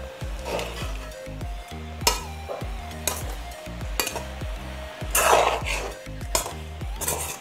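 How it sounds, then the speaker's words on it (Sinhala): A spoon stirring kekatiya curry in a pan, with repeated scraping strokes and knocks against the pan at a steady, roughly one-per-second rhythm over faint sizzling, close and clear with no talking. "විනාඩි 2-3 මේ විදිහට කලවම් කරගන්න."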